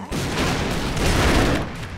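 Enemy gunfire in the side-scrolling action game Broforce, a dense, continuous fusillade of overlapping shots and booms that runs loud and sustained for about two seconds with no pauses.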